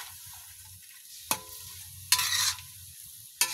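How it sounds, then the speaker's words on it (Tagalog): Upo squash and green chili sautéing in a pan, a low steady sizzle under a few sharp stirring scrapes and clatters, three distinct bursts over the frying hiss. "Gisahin na natin. Upo. Lagyan natin ng siling green."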